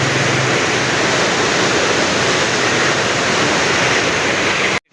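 Loud, steady roar of rushing river water at Taunsa Barrage, a dense continuous wash of turbulent flow filling the whole stretch without pause, close to the listener until it cuts off abruptly at the end.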